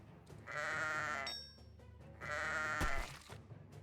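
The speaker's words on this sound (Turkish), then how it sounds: "koyunu patlattım yanlışlıkla" Two loud, wavering video game sheep bleats close by, each lasting about a second, with a brief pause and a soft thump between them.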